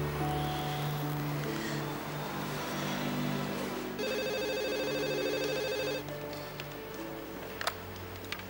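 A house phone rings on an outgoing call, with a steady electronic ring tone pulsing for about two seconds over soft background music.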